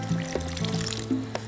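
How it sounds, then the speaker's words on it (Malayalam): Water is poured into a cooking pan for a chicken mince dish in a Kerala cookery show kitchen, giving a brief close trickling fill over a low background hum. "ഇച്ചിരി വെള്ളം ഒഴിക്കാൻ പോവാം"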